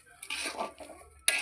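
Stirring sugar into carrot halwa in a pan: a few short scraping, clinking bursts of a spoon against the pan, close and fairly quiet, with a brief pause between strokes.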